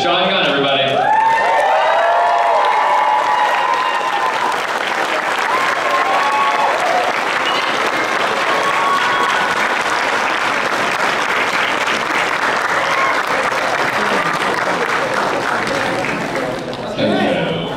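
A convention audience at a Guardians Q&A session in Niagara Falls breaks into loud, sustained applause with scattered cheers and whoops, a dense crowd roar lasting throughout, with voices shouting briefly near the start.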